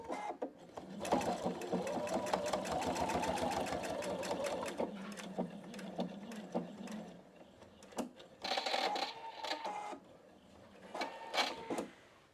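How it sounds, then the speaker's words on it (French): A PFAFF Expression 720 sewing machine stitching a seam on a small pouch, rapid mechanical clatter running steadily in bursts with brief pauses between, close and clear with no talking. "je vais faire la couture ici"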